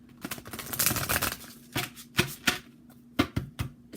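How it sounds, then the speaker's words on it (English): Tarot cards are drawn and shuffled from a deck close by, with a rapid flurry of riffling followed by several separate sharp flicks and slaps as single cards are pulled. "So I'm going to pull some cards from here."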